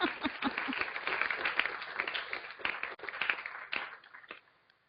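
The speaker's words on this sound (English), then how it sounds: "we need to give him an extra applause because he's on vacation" A small group claps at a senate meeting, with distinct hand claps forming a loose applause that thins out and fades to silence by the end.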